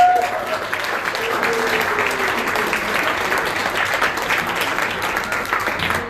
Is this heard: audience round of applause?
yes